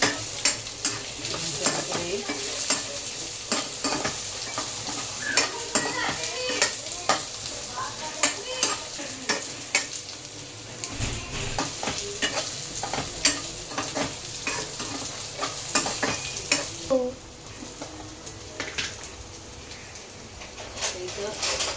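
Dried coconut and the white pith scooped from bitter gourds dry-roast in a pan for stuffed karela, with steady scraping and stirring strokes and light crackling that continue throughout, close and moderately loud.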